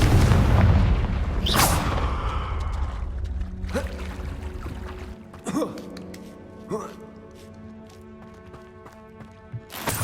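A Confringo fire spell explodes in the video game Hogwarts Legacy with a loud opening boom. Scattered crackles and impacts follow as the blast fades, with a voice speaking over it.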